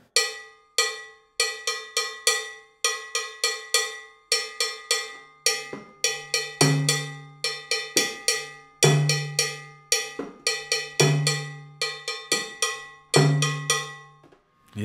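A cowbell struck in a repeating son montuno pattern gives crisp, evenly spaced metallic clanks, alone and close, with occasional deeper hand-drum tones under some beats.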